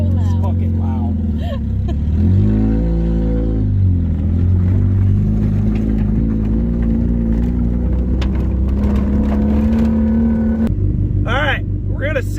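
A Mazda Miata's engine revs loudly and continuously while doing donuts, the pitch climbing and dipping with throttle, close and droning, with voices talking over the roar.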